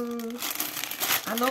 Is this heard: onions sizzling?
no